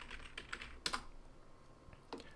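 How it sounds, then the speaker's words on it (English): Fast clicking of computer keyboard keys in short bursts, moderately quiet, with a slightly louder cluster of keystrokes near the middle and no voices. "I'm just typing this in to look at it later."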